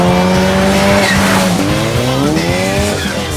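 A Zenos E10 R sports car with 500 bhp per tonne drives fast, its engine roaring loudly and rising and falling through gear changes, with tyre squeal mixed in and no talk.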